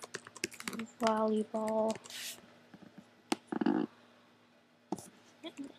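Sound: typing on a Mac computer keyboard

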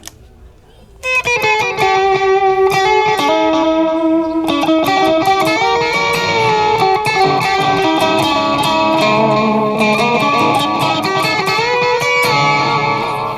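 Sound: guitar distortion effect on TANK-G multi-effects pedal

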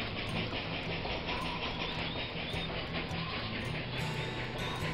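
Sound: train running uphill in video game Railroad Tycoon 2

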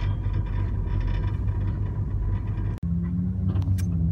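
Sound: car engine started and running

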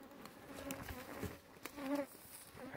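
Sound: honey bees buzzing

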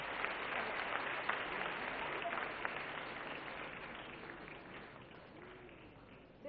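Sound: audience applause at a lecture

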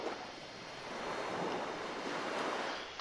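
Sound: water sounds in a video game

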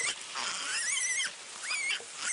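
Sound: piglet squealing while being carried

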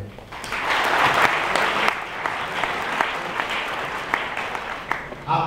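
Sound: audience applause

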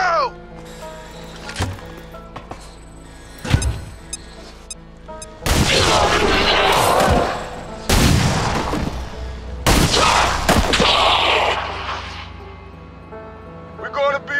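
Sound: rocket launch and gunfire in XCOM 2 video game

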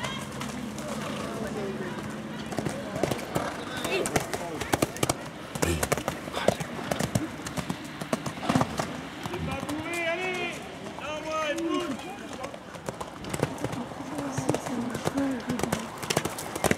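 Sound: horse hooves clip-clopping

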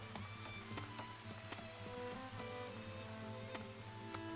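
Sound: rain in video game Farthest Frontier

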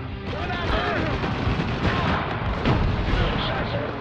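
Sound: grenade explosion in Spec Ops: The Line video game

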